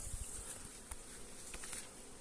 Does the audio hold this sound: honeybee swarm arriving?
yes